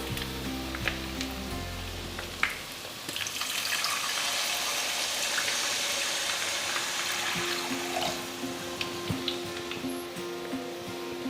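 Water is poured into a hot pan of chicken keema pulao, measured for half a kilo of rice. A loud, steady rushing hiss and sizzle runs for several seconds up close, with no one talking.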